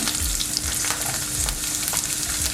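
Garlic fries in sesame oil for a Kerala-style cut mango pickle, giving a continuous loud sizzle with stirring scrapes close by and no talk.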